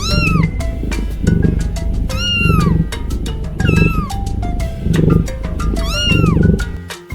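A cat meows loudly and close up, about six drawn-out, rising-and-falling calls in a steady rhythm over a low, continuous background bed.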